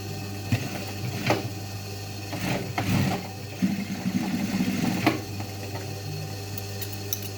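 A sewing machine double-stitches denim jeans with a steady mechanical hum and rapid needle chatter that rises in short bursts and eases between passes, close and without voices.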